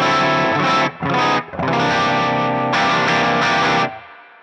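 An electric guitar is played through a Dominion Electric Faceless Fuzz Ge germanium fuzz pedal into a second-channel Bloomfield Drive that is breaking up, giving loud, thick, saturated chords with brief gaps, then a ringing chord that cuts off.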